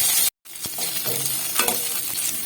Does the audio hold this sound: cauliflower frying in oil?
yes